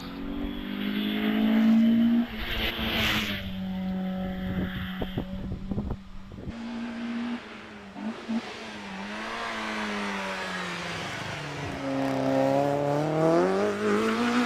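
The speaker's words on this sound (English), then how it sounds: "taking a practice run up the hill now in the Peugeot 106" A Peugeot 106 race car makes a practice run on the Prescott hill climb. The engine revs and climbs through the gears in rising and falling sweeps, moderately distant and steady throughout.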